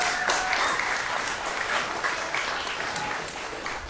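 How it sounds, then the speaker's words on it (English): A school board meeting audience applauds the Saguaro High School Guitar Orchestra, a steady dense wash of clapping that holds at an even level throughout. "one more round of applause for Saguaro High School Guitar Orchestra"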